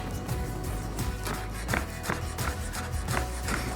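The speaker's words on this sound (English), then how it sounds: "we also need to give our spinach a rough chop" Knife roughly chopping fresh spinach on a cutting board, a quick run of close, uneven taps and thuds about three to four per second, with no talking.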